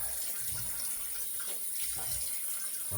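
Hot water runs steadily from a tap into a basin while shaving, a constant close hiss of flowing water.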